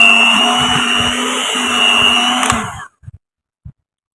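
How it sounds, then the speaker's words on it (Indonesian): Electric mixer running on its lowest speed, blending wheat flour into cake batter for a pineapple layer cake, a steady motor whine with soft beater knocks that stops abruptly near the end, followed by a few light clicks. "Lalu mixer dengan speed yang terendah hingga rata."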